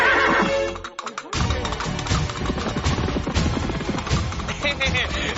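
A cartoon horse gives a loud, close whinny, then gallops away with rapid, continuous clip-clop hoofbeats and a crashing thud, while voices speak over the action.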